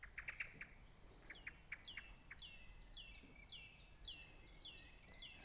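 Small birds chirp outdoors in nature, with a run of repeated bright, descending tweets after a few sharper high calls, moderately close over a soft breezy background, with no talking.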